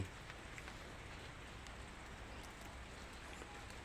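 Rain falling steadily outdoors at a Thai eel-raising pond, a faint, even patter of drops on surfaces with occasional sharper ticks and no talking.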